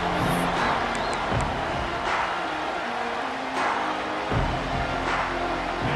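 Stadium crowd noise in the EA Sports College Football 26 video game, a steady, dense roar of a large crowd with faint swells of cheering and chant-like tones throughout, fairly loud and continuous.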